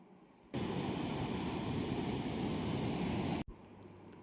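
Sea waves washing onto a rocky shore at a Kannur beach, a broad steady roar of surf that starts abruptly, holds loud and even for about three seconds, then cuts off to quiet.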